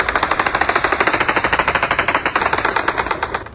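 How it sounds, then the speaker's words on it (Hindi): AK-47 firing automatic bursts into the sky on a busy road, rapid evenly spaced cracks in one loud continuous stream, close by and without any talk. "गोलियों की तड़तड़ाहट, आसमान की तरफ AK-47 के मुंह"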